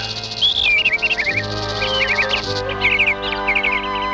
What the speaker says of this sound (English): It was Darcy, the tailor bird, and his wife